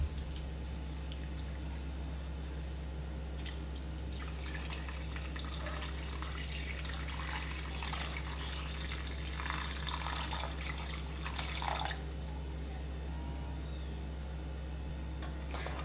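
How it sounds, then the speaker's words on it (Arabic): Half a liter of water is poured into a container while a homemade drink is mixed, a steady close splashing stream over a constant low hum, no talking. "ثم سأضيف الماء، نصف لتر من الماء."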